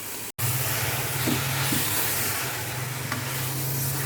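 Spinach sizzles and hisses steadily in a hot pan, with faint occasional scrapes from stirring, a continuous close frying sound for aloo palak after a brief gap at the start.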